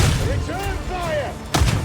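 Gunfire in Warhammer 40K: Darktide: dull, booming shots under a shouted voice, with a heavier burst of fire near the end against constant battle noise.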